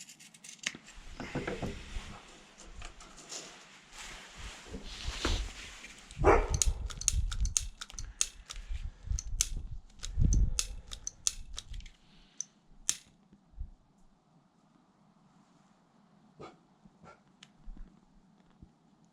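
Scissors snip through nylon webbing in a series of sharp, close clicks and cuts, busiest early on and then thinning to a few scattered snips over a quiet background.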